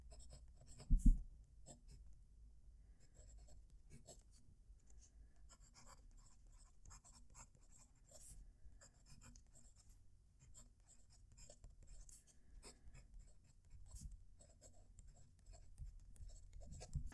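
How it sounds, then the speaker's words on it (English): A fountain pen scratches across Fabriano paper in an extended quiet writing pass, with faint, close, continuous nib scratching and small strokes after an initial tap, and no voices. "It's time to write."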